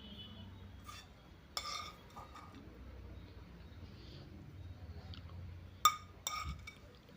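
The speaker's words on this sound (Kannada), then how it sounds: "ನಾನು ಇದನ್ನೆಲ್ಲ ಇವಾಗ ಈ ಜಾರಿಗೆ ಹಾಕ್ಕೊಳ್ತಾ ಇದ್ದೀನಿ." Fried okra chutney ingredients dropped into a steel mixer jar, giving a few faint scattered clinks and taps over a quiet kitchen background, with two sharper knocks near the end.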